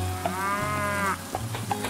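Wild desert cattle in a survival video game, caught to be tamed in the rain, give one long drawn-out moo close by, followed by a few shorter grunts over a steady rain hiss.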